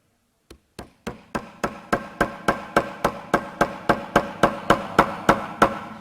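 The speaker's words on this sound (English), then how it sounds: "You can hammer rubber into wood if you make the rubber cold enough." A hammer drives a piece of frozen, rock-hard rubber into a lump of wood, about twenty sharp, evenly spaced blows that start slowly and settle into a brisk steady rhythm, close and loud with no talking.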